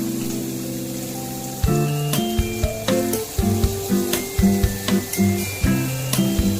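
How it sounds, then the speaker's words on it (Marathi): Steady sizzling of mandeli (gold fish) frying in a hot pan over low heat, continuous and close, with tonal background music playing over it. "मांदेली खालच्या बाजूने चांगली फ्राय झालेली आहेत"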